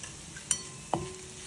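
Coriander powder and turmeric are stirred in a pan, giving two quick scraping strokes over a faint sizzle, close and quiet.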